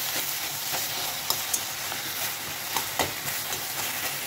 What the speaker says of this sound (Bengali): এবার ঢাকাটা খুলে বেগুনগুলো তো একদম সিদ্ধ হয়ে গেছে, এইবারে এটাকে ভালো করে ঘেটে দিতে হবে